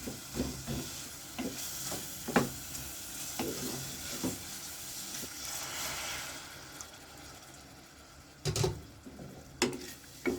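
Tomatoes cook down in a pan for an eggplant (baigan) dish: a continuous soft sizzle and hiss with intermittent scraping stirs and a few louder clattering bursts toward the end.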